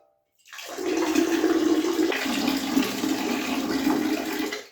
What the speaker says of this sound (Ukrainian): Ну що, друзі, перший раз у новий унітаз.